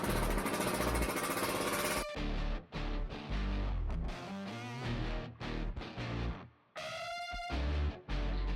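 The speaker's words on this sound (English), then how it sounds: "Blunt drill bit." Drill biting into metal roof sheets on a scrap-built timber log store, a blunt bit grinding and chattering in loud, rough bursts with short pauses between, then a whining squeal near the end.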